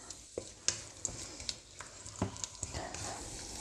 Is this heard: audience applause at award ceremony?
no